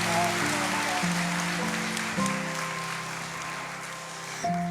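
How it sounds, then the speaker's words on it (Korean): A congregation claps during a Sunday worship service in a church, a steady wash of applause sitting over sustained organ-like tones that shift pitch a few times, with a voice faintly present. "큰 박수로 한번 부탁드리겠습니다"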